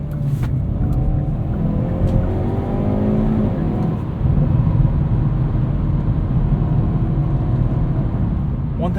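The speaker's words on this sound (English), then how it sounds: "the exhaust isn't as loud and ostentatious as it is with a manual car" A 2021 Hyundai Veloster N with a dual-clutch transmission accelerates up a highway entrance ramp at night. Its exhaust drones steadily from inside the cabin and climbs in pitch through the gears, with brief shift breaks and constant road roar underneath.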